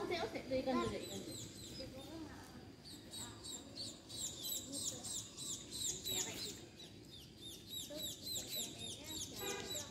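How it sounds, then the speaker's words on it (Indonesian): Many baby birds peep and chirp rapidly in a dense, continuous chorus on a morning walk, with a clucking fowl-like call near the start and people talking quietly underneath. "Banyak kan, banyak anak burung."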